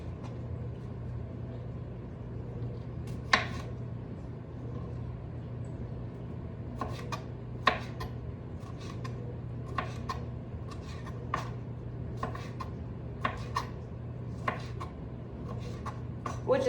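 Knife chopping vegetables on a board for a breakfast quiche, a series of light irregular taps and clusters of cuts over a low kitchen hum.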